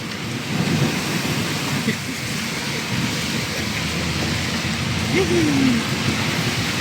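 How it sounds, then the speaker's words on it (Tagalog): Heavy, steady rain pouring down with a dense continuous hiss and low rumble, a brief rising whine passing through near the end. "Grabing ulan."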